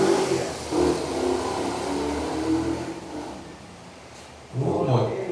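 A motorcycle passes at night in front of a church, its engine rumbling steadily and then surging loudly again close by near the end.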